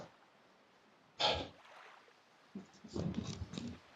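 A single sharp sneeze bursts out nearby, followed by a short pause and then muffled speech-like sounds and breathing.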